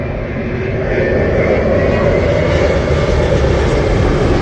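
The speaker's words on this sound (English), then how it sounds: "Virgin Atlantic Boeing 787-9 Dreamliner." Virgin Atlantic Boeing 787-9 Dreamliner landing at Heathrow, a loud, steady jet engine roar with deep rumble holding close and constant throughout.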